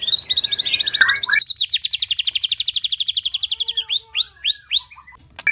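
A white-rumped shama (murai batu) songbird sings close by at a gallery, with rapid repeated whistled trills and chattering phrases in a continuous, loud run, shifting to varied burst notes near the end.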